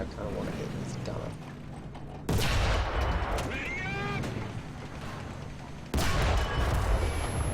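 Two heavy 75mm tank cannon blasts from a video game, one near 2.3 seconds and another near 5.9 seconds. Each is a loud broadband boom that rolls into a long rumble. Engine and battle noise runs underneath, with a brief whistling sweep between the shots.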